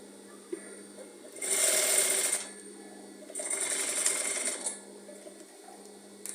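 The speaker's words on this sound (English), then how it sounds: "You fold in and you top stitch till the back." Sewing machine top stitching fabric on an off-shoulder turtleneck, two distinct runs of rapid mechanical whirring of about a second each, separated by a quiet pause, fairly close with no talking.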